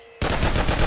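Rapid automatic gunfire in the online game Anomic bursts in after a short quiet start, a loud, dense run of closely spaced shots with no talking.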